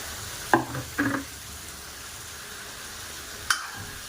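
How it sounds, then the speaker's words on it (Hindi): Peas and paneer fry in masala in a home kitchen pan, giving a low continuous sizzle broken by three scraping stir strokes, two close together near the start and one later. "अब ये सब्ज़ी अच्छे से मटर और पनीर अच्छे से मसाले में भुन गए हैं"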